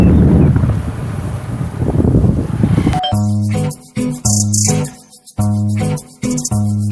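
Heavy wind buffeting a microphone on a moving motorbike for a few seconds, then loud music with singing cuts in and takes over.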